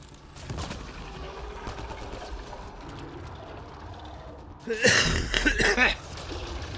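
Video game gunfire from Mass Effect Andromeda, a steady low crackle of shots through the first seconds swelling into a loud, dense burst of fire near the end, with talk and breathing mixed in.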